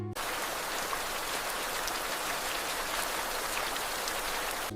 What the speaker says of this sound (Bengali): তোমাদের সাথে কথা বলতে বলতেই বৃষ্টি চলে আসছে